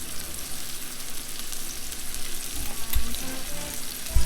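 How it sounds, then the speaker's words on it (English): Butter sizzles in a hot pan alongside steaks, a steady close crackling hiss that swells slightly toward the end, with a couple of soft low bumps. "Now, gonna throw some butter in the pan,"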